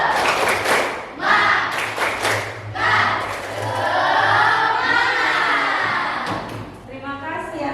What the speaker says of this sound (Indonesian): Tepuk semangatnya mana? 1, 2, 3.